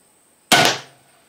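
A single sharp snap comes from a CenterPoint Primal 330 recurve crossbow fired at a target 10 yards away, loud and close, with a short fading thrum after the release and otherwise quiet surroundings.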